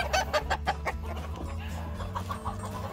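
A flock of chickens squabble and fight at close range, with rapid, agitated clucks and squawks coming in irregular bursts.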